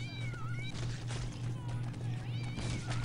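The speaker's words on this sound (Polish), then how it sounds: "Trzeba uważać na te koty cholerne." Cats meow repeatedly in a survival video game, several rising and falling cries over a steady low hum and game sounds.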